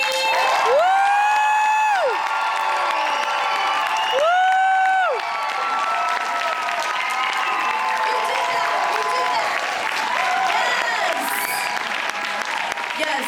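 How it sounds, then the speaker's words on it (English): A theater audience at a Broadway & Juliet anniversary talkback bursts into loud applause and cheering, with a few high whoops rising out of the sustained clapping. "the crowd goes wild"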